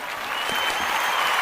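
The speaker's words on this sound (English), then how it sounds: "After every sentence, there was an applause." A chamber crowd at a State of the Union address breaks into sustained applause after a sentence: dense, steady clapping from many hands, fairly loud and continuous for the whole moment.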